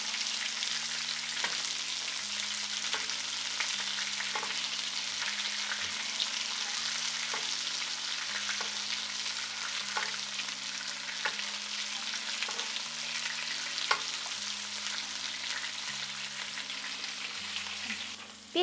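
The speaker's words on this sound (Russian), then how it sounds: "Теперь берем это ароматное масло и сверху вот так вот поливаем стейки" Steaks fry in a pan as aromatic oil is spooned over them, giving a steady crackling sizzle with a faint rhythmic low tone running underneath the whole time.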